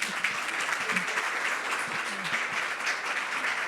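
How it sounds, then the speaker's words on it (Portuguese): A conference audience applauds with dense, sustained clapping at a steady level, holding from start to finish, with a faint voice underneath. "Palmas para a Verena."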